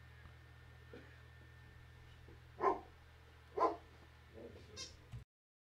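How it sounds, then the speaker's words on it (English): An indoor dog gives a few sharp barks, two louder ones about a second apart followed by quieter yips, over a low steady background hum. "you're not even at the window to see people and you're in here barking"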